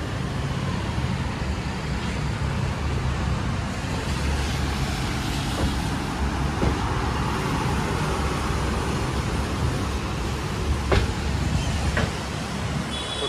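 The Shamli to Delhi passenger train runs toward Old Delhi station in a steady, loud rumble of wheels and carriage, with a low drone and a few faint rail squeaks, heard from aboard.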